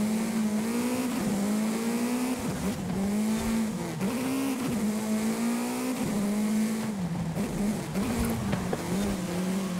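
Race car in Forza Horizon 5 howling at steady high revs, the engine note wavering with brief dips at gear shifts and corners, with tire squeal and skidding underneath, loud and continuous.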